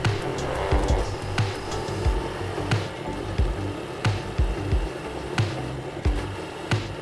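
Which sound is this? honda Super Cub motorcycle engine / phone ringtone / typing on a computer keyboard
honda Super Cub motorcycle engine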